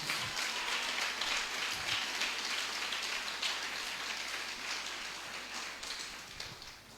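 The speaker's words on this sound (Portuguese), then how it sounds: "Eu queria que você desse uma salva de palmas ao Senhor essa noite." Congregational applause at an evening church service fills the space as a steady, broad wash of clapping, fairly distant and gradually tapering.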